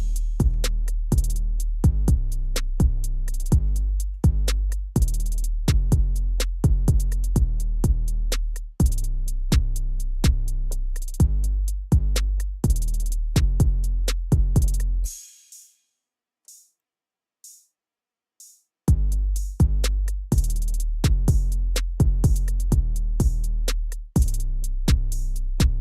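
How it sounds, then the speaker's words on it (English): Hard, bouncy trap-style drum loop programmed in FL Studio: booming low kicks and crisp snares and hats hit in a steady, punchy pattern, dropping out briefly to near silence before the beat returns, with no talking. "So like the drums just by themselves sound like this."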